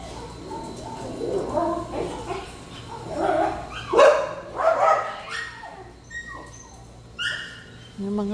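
Outdoors, dogs fight in irregular bursts of barks and snarls that rise and fall over several seconds, with birds cooing in the background.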